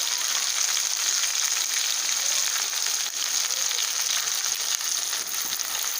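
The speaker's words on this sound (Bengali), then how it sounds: "এখন দিয়ে দেবো কুচি করে রাখা টমেটো। এবার দিয়ে দেবো আদা পাকা লঙ্কার পেস্ট" Chopped tomato with ginger and green chilli paste frying in hot oil over cumin seeds, a steady dense sizzle that holds even and fairly loud for the whole stretch, with no voices over it.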